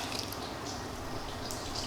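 A steady hiss of spraying water pre-rinsing a car, with occasional splashes and drips, continuous and fairly close, with no talking.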